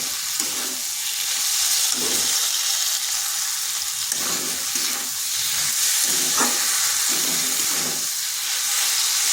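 Potatoes and kundru being stir-fried with spices in a pan, a loud continuous sizzle with rhythmic spatula scrapes and stirs repeating every second or two, no voices.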